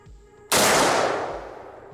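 An M1903 rifle firing a single .30-06 round outdoors: one sharp, loud, close report that bursts out suddenly and rolls off into a long, fading echo.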